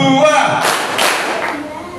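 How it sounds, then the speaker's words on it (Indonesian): A group claps twice in a quick pair during an anti-bullying session at an elementary school, with voices talking just before and the noisy room continuing after. "Tepuk 2"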